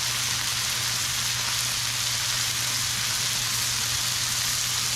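Thin chicken breasts sear in a hot pan with a dense, even sizzle that holds steady and loud throughout, close up with no voices.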